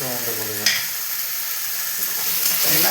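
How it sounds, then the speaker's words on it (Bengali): Tomatoes sizzle in a pan with very little oil while cooking for a Bengali fish curry with cauliflower and potato, giving a steady, close, hissing fry with a few brief louder spits. "আমি কিন্তু আজকে খুব একটা তেল দিইনি দেখতে পাচ্ছিস একদম শুকনো শুকনো ভাজছি"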